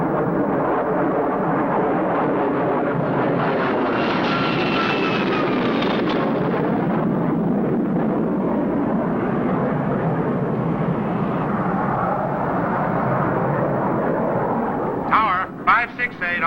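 Military aircraft flying in a diamond formation and pitching out to land, a loud continuous engine roar that swells and slowly fades, with radio-style voices talking over it and a few brief knocks at the end.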